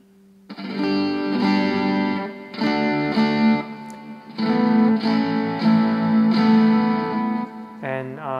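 A distorted electric guitar chord is strummed again and again, each ringing out loudly before the next strum, with a short fuzzy flourish at the end.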